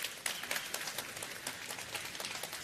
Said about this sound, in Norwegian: Applaus til Terje for god mat